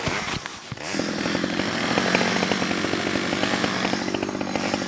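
A chainsaw runs loud and close while trimming limbs from cedar trees, a steady high engine whine with slight rises and dips in pitch after a brief rough start.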